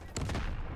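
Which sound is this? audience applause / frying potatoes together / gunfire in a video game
gunfire in a video game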